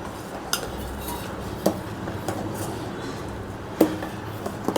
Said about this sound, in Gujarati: એને આપણે આ રીતે હલાવીશું